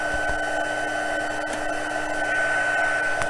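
A heat tool blows continuously while setting gold embossing powder over ink, a steady whirring hum with a constant tone and faint clicks, no talking.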